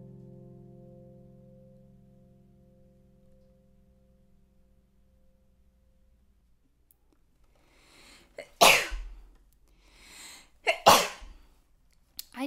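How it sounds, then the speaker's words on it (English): Two loud, sharp sneezes come close together after a quiet stretch where a soft hum fades out. "I just sneezed that entire time."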